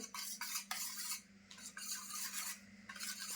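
A spoon scrapes and rubs in repeated strokes against a pot while stirring a milk mixture for khervas, close and distinct, with a low steady hum underneath.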